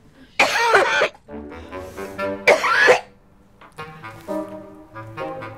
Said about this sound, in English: I was a little bit taken back by the coughing fit.